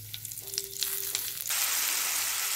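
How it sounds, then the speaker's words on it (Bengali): Black cumin seeds hit hot oil in a wok and crackle in sharp little pops, swelling into a loud steady sizzle that fills the second half. "তেল দিয়ে এটাতে আমি কালো জিরে ফোড়ন দেবো।"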